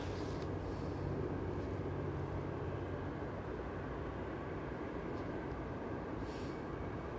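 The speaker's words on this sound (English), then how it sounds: "It's just a radial engine." A PBY Catalina's radial engine drones steadily and evenly at an airfield in Anchorage. It sounds somewhat distant and carries on alone, with no talk over it.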